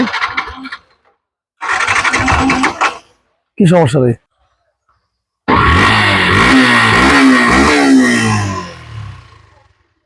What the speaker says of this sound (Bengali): বাইকটা স্টার্ট করে সাউন্ড কন্ডিশন দেখাবো